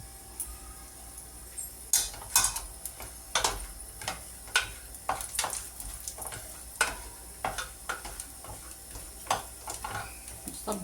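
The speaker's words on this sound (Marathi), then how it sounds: "थोडेसे काजू, थोडे बदाम, थोडे ब्राऊन होईपर्यंत थोडे भाजून घेते, ब्राऊन रंगावरती." Cashews and almonds roasting in a pan until brown, a light sizzle under a quick, irregular run of crisp clicks and scrapes as the nuts are stirred, close by with no voices.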